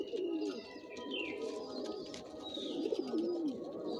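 A Gola bloodline pigeon of an old-generation line coos in soft, rolling phrases close by, repeated twice over a faint background.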